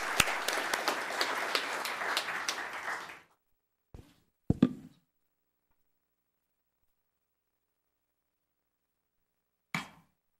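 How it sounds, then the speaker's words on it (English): A round of applause at a town council meeting, with dense clapping from a room of people for about three seconds, then a few isolated loud claps and knocks at scattered moments. "Let's give her a round of applause."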